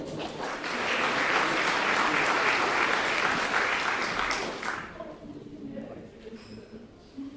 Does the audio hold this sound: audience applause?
yes